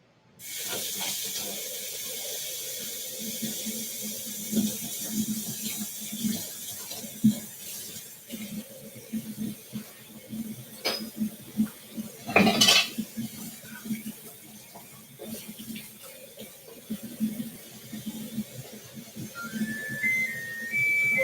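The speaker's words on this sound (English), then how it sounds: "Wait to go and wash these off to the side." Baking utensils and dishes washed at a kitchen sink, with running tap water rushing steadily and intermittent clinks and knocks of utensils, a sharp clatter midway, and faint whistling or humming underneath.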